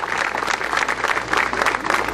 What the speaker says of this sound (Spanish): también el aplauso para Leonel